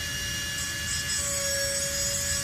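A micro grinder whines steadily against carved wood, texturing the breast feathers of a golden-crowned kinglet carving, a constant close high-pitched tone with a light grinding rasp and no talk.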